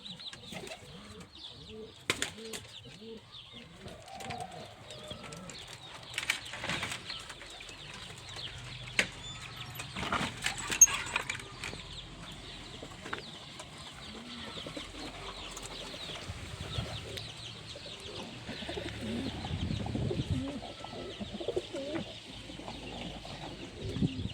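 Pigeons in a loft coo softly and repeatedly, faint and somewhat distant, with light rustling and shuffling throughout.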